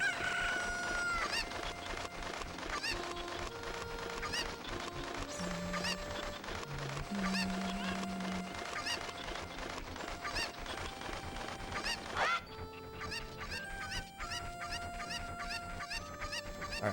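Chickens in The Legend of Zelda: Ocarina of Time cluck and squawk continuously at close range, with a crowing-like call in the mix. No one speaks over them.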